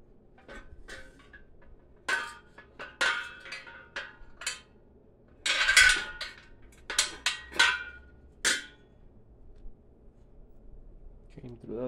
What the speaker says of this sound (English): I'm going to go ahead and get the bolts from bag number two.